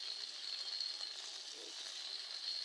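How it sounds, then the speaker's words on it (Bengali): Shing fish lightly frying in a pan, a faint continuous hiss and crackle of oil heard close up, low in level and steady for the whole short stretch. "আমি এখন এই মাছগুলো হালকা করে ভেজে নেব, এপিট ওপিট করে।"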